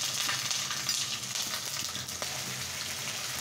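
Ginger, onion and garlic pastes fry in oil for beef bhuna, a steady close hiss of sizzling with faint scattered pops and no voices.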